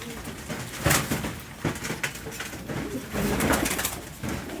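Amritsari pigeons, red-coloured birds kept by a fancier, coo repeatedly nearby with low throaty calls over steady rustling and background noise.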